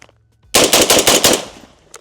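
A Genesis Gen-12 shotgun fired through a titanium Hux Works suppressor: a sharp, loud muffled boom followed by a short dense burst of rumble that quickly fades into quiet.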